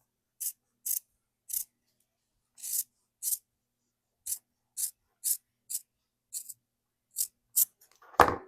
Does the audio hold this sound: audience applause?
no